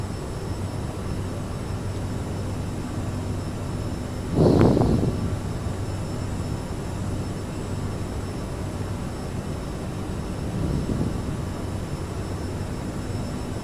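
In the FS2020 flight simulator, the jet engines of an Aerosoft CRJ700 drone steadily in flight, a constant loud whine and rumble. One brief louder swell rises near the middle and a fainter one comes later.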